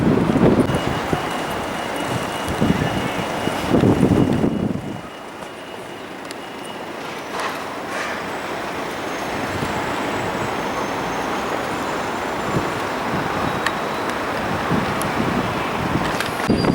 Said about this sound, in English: God, it's got really windy.